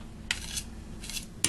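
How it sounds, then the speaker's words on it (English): A utensil stirs sourdough starter in a container with three short scraping strokes, the last one sharpest, close and fairly quiet, with no one speaking. "I'm going to give this one more stir because there was a little, how shall we say, undigested flour on there"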